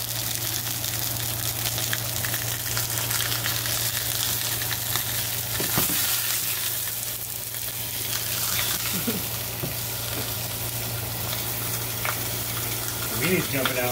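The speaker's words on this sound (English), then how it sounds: "There's that sizzle. Some sausages." Sausages frying in a hot, slightly smoking pan, a dense continuous sizzle with crackles and pops, close and steady throughout, with a low hum underneath.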